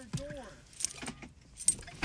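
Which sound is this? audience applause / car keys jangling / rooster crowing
car keys jangling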